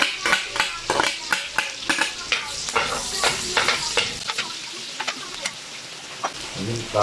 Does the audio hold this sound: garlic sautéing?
yes